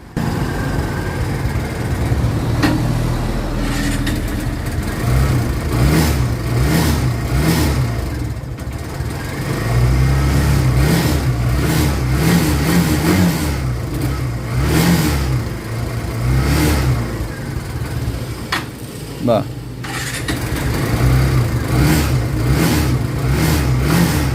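Kawasaki Barako 3 motorcycle from 2023 with an intermittent stalling fault, its engine running close by and loud, alternating between idling and repeated revving surges, with brief drops in level between bursts.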